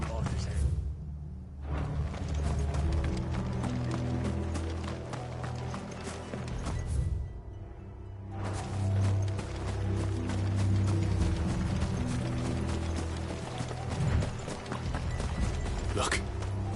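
Horses gallop in the Final Fantasy XVI video game, a steady run of rapid hoofbeats under dramatic background music, with a brief lull partway through and loud clattering resuming, close and fairly prominent.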